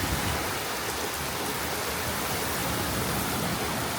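Heavy rain pours steadily with wind, a dense, loud, unbroken rush filling the whole stretch with no voices.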